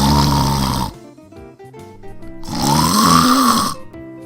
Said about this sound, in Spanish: él ya estaba dormido y roncando durísimo